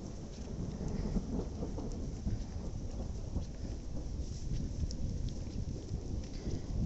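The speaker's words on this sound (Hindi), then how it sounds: "पीछे आपको बादल जो है वो दिख जाएंगे और बिजली भी काफ़ी तेज़ चमक रही है" A thunderstorm over hills at an eco park brings steady rain hiss and a low continuous rumble of thunder, moderately faint and unbroken, with no voices.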